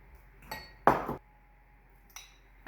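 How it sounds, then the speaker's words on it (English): Butter, brown sugar and cinnamon being stirred together in a bowl for a cinnamon roll filling, with a few close utensil clinks and scrapes against the bowl separated by quiet pauses, no talking. "we're gonna go ahead and mix up the filling"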